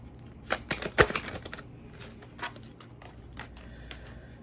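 A deck of oracle cards is shuffled close by, several quick papery flicks and snaps bunched early, then softer, sparser rustling trailing off, with no voices.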